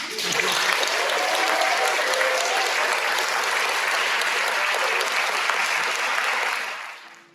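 An audience applauds steadily and loudly at a panel event, a dense clapping that holds evenly for several seconds before fading out at the end.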